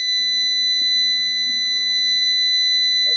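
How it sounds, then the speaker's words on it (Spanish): Electronic alarm sounding indoors, a loud continuous high-pitched steady tone that holds without break through the whole stretch, with faint background noise beneath and no speech. "Tengo que desconectar la alarma"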